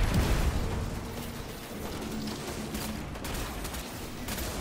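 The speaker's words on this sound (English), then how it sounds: "I think it's a really fast firing scout" Rapid gunfire from a fast-firing scout rifle in Destiny 2, a dense run of sharp shots with bursts of impacts and game effects throughout.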